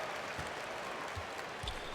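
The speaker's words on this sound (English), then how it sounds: "This Boston crowd ready to roar in this Eastern Conference matchup" A Boston Celtics home crowd in NBA 2K21 produces a steady, distant wash of arena cheering and applause with a few soft thumps mixed in.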